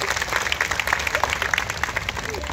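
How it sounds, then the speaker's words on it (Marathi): Crowd at an open-air protest rally of ASHA workers at Azad Maidan clapping loudly to welcome a union leader, a dense, steady burst of applause with voices faintly underneath. "त्यांचे जोरदार टाळ्या वाजवून आपण एक ठिकाणी स्वागत करू"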